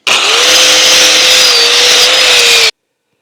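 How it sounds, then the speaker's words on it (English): An angle grinder fitted with a wire brush cleans old leaf springs from a Scout's front suspension, giving one loud, steady, close-up whine and scrubbing roar for about two and a half seconds before cutting off to silence. "I'm cleaning up the leaf springs with a wire brush on an angle grinder."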